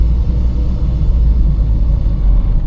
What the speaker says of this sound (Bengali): এখন এই গাড়ির যে ইঞ্জিনটা, আপনার সাউন্ডটা শুনলে বুঝবেন যে ইঞ্জিনটা সেটার সিলিন্ডার ওয়ালের সাথে মানে ঘষা খাচ্ছে।